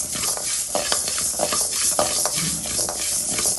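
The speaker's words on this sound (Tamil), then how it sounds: "அடுப்பை லோ ஃப்ளேமாக வச்சு வறுத்துக்கோங்க" Curry leaves are dry-roasted in a pan over a low flame for a spice powder, with constant scraping and stirring over a soft, dry crackle.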